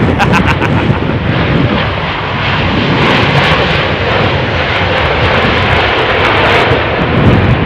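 Airliner landing at London Heathrow in Storm Noa, its loud engine roar filling the whole stretch alongside heavy wind noise, steady and close throughout.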